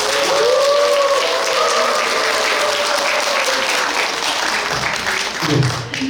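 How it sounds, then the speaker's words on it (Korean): Warm audience applause at a poetry recital, a dense steady round of clapping that fills the room for several seconds, with a few voices and a brief murmur rising near the end. "여러분들 따뜻한 박수 드립니다."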